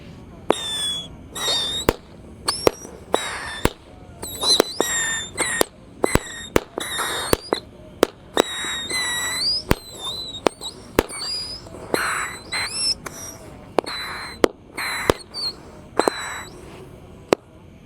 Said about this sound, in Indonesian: Berhasil menyala guys, misil 25 shot.